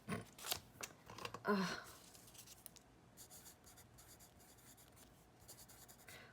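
A pen scratches out a short note on paper, close and quiet, in a few quick bursts of strokes with brief pauses, then fainter rustling and small scrapes follow, with no talking.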